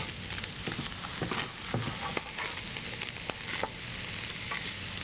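Food frying in a pan on a home stove, with a steady moderate sizzle, scattered pops and light stirring clatter throughout, close by and without talking.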